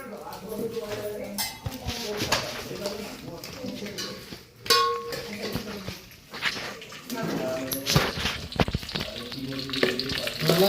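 Food fries in a home pan while chicken dum biryani is being cooked, a close, uneven sizzle broken by stirring scrapes and pot clatter, with people talking over it throughout.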